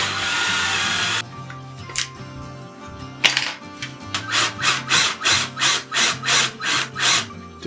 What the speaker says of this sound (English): Make sure you're drilling into something so you are not blowing out the backside of your block